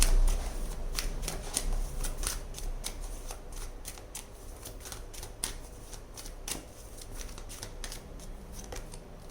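Tarot cards being shuffled by hand, with a steady series of crisp riffling flicks and soft slaps, close and clear with no talking.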